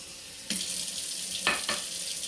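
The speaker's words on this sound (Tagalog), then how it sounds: "Inom tayo ng tubig sa sink." Water runs from a sink tap in a home kitchen, a hissing splash that starts abruptly and keeps flowing, with a couple of louder surges as the stream is disturbed, moderately close and without speech.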